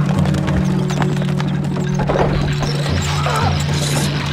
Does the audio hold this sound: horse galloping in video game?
yes